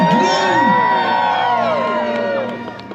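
A large crowd of children and adults cheers and whoops loudly at the Holiday Harbour Lights show at Legoland Windsor, a dense sustained roar of shrieks that fades slightly toward the end.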